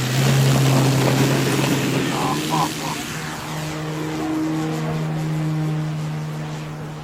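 A brushless 14s Extreme Flight Edge RC aerobatic plane flies at a 3D event, its steady loud motor drone and shifting tones carrying throughout with a brief voice partway.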